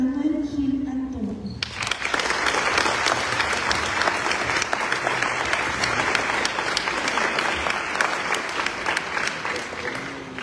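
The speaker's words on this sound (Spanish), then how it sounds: "Recibamos con un fuerte aplauso al doctor Manuel Gil Antón." An audience at a keynote lecture by Dr. Manuel Gil Antón bursts into sustained applause, dense steady clapping that starts abruptly after a short spoken introduction and continues without letup for the rest of the stretch.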